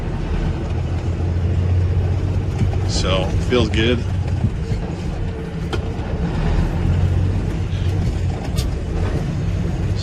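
A 2008 Kenworth T800 truck with a rebuilt engine, idling with a loud, steady diesel rumble throughout, a short spoken remark partway through over the engine noise and no clearly distinct gear change.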